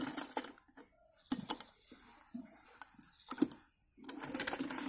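A sewing machine stitches along the seam of a salwar pocket in short, close bursts, running, pausing and starting again several times, with no voice over it.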